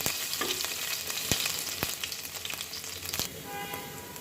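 Chopped ginger frying in hot oil for a kolai greens dish, a steady close sizzle with occasional sharp clicks and scrapes of stirring, and no voices.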